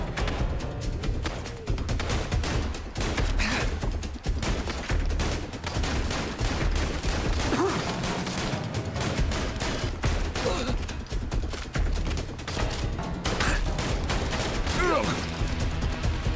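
Dense gunfire and explosions fill a firefight in the video game Fallout London, with continuous loud bursts and crashes that barely let up and almost no quiet between shots.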